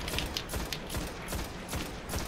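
Rapid gunfire aimed at an enemy in the Destiny beta on PS3: quick bursts of shots in an uneven rhythm over a busy bed of game noise.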